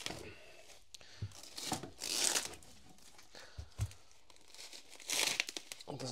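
Knife slicing through carpet near a drain, heard as close, rough crinkling and tearing bursts in irregular strokes, with brief knocks between them.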